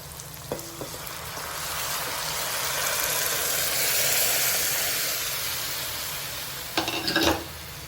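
Dal poured into a pan of cooked onions and tomatoes and stirred, with a steady frying sizzle throughout and a brief clatter of utensils near the start and a louder burst of stirring near the end.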